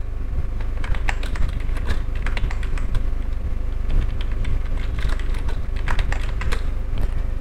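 Rapid clusters of keyboard key taps come in bursts with short pauses, close and crisp, over a low steady background hum.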